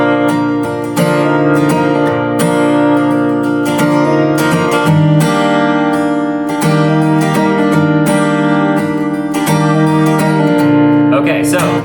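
An acoustic guitar with a capo strums chords in a steady, rhythmic pattern with bright ringing strings, played close and alone for several bars.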